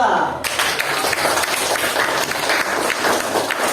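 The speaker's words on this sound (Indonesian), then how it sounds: "Kita beri aplaus untuk kelompok 2." A classroom of students applauds a group after a timed quiz, a burst of many overlapping claps starting abruptly and continuing in a loud, close, busy patter with voices mixed in.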